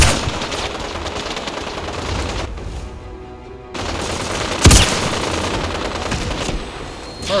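Gunfire in Fallout 4, loud continuous shooting and rattling bursts, a brief lull, then a sharp heavy blast and more firing.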